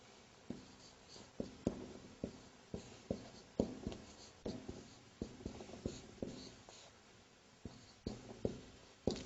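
Pen or chalk writing during a lecture, a steady run of quiet scratching strokes and taps in short bursts, heard alone and fairly close.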